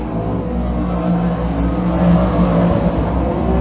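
358 modified race cars roar around an oval track in a loud, sustained engine drone that swells slightly as they pass.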